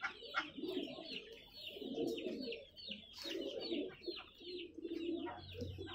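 Many pigeons coo together in a pigeon market near Jama Masjid by the Red Fort in Delhi, with low rolling coos repeating steadily over a faint murmur of the market.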